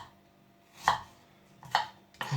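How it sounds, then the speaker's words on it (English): A knife cuts apples into small pieces on a board, three distinct chopping thuds spaced about two thirds of a second apart, close and clear in an otherwise quiet kitchen. "we're going to cut them in small pieces and put them into the bowl here"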